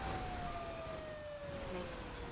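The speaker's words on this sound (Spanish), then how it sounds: "viene otro camión en bomberos" A fire truck siren in GTA Online wails steadily at moderate volume, its tone gliding slowly downward as it passes, over a constant background of traffic and game noise.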